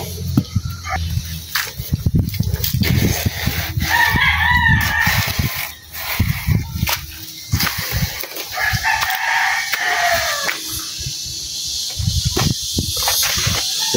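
Chickens cluck and a rooster crows several times, loud and close, over scattered clattering and rustling noises.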